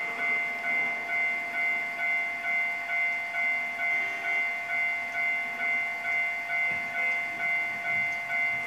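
Japanese level crossing in the Trainz 2 train simulator game, with a steady ringing crossing bell that pulses in an even rhythm over a low train rumble, loud and close with no talking.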